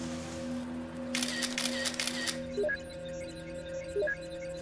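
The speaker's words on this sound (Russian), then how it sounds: "А где с фотоаппаратом? Щелкни." Several camera shutter clicks, with a bright burst of rapid clicks followed by two spaced single clicks, heard over a steady background hum.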